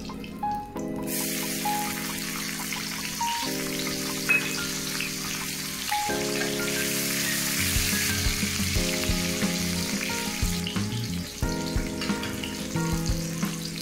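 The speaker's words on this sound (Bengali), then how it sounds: "এবার পেঁয়াজ ফোড়ন দেব।" Onions fry in hot oil for a Bengali spicy fish-head curry. A steady, close sizzle runs the whole time under sustained musical tones.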